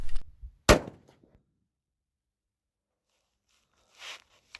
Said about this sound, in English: I'm going to shoot 3 shots at 100 yards, get some velocity readings